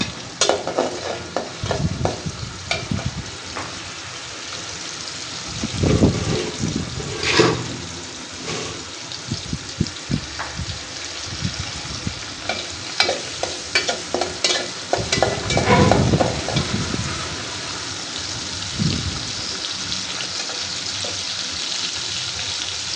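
Prawns sizzle and fry in a pan, with loud bursts of scraping and stirring that come and go over a steady crackle. The stirring is close and no one speaks.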